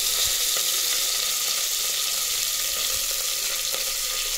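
Onions frying in a pan along with bay leaf and spices, making a loud, continuous close sizzle and hiss that holds steady with no voices.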